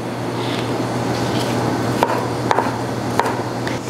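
A knife chops a red onion on a cutting board, giving three or four separate close taps spaced about half a second apart over a steady kitchen hum.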